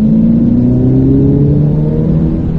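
A loud, close Ferrari F8 Tributo engine revs up under acceleration on the Pont-l'Évêque race circuit, its steady drone climbing in pitch with a rough mechanical roar throughout.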